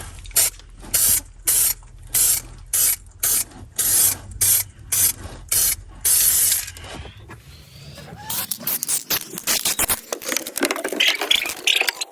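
Spray paint hisses from an aerosol can onto the floor of a Fiat 126, laid down as a run of loud, regular short bursts, followed by scraping and rubbing noises.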